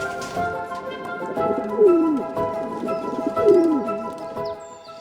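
Racing pigeons coo in soft, repeated, descending calls close by in a loft, several overlapping coos across a few seconds against a low steady background.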